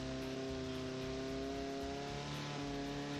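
Car engine in the racing game BeamMP during a rally, revving steadily with a sustained droning tone and harmonics shifting partway through, loud and continuous with no talk.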